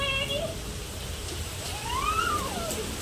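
Steady hiss of falling rain fills the scene while a person talks over it in the foreground.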